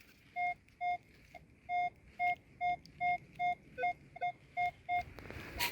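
A metal detector gives a steady series of about a dozen short, evenly spaced electronic beeps over a signal while digging for coins in the Czech Republic, clear and close, with faint background noise.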